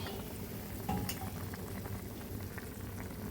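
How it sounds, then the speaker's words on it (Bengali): Fish frying in a pan in a home kitchen, a steady close sizzle and bubbling hiss of hot oil with faint stirring scrapes, continuous and without talk. "মাছ রান্না হচ্ছে এখানে।"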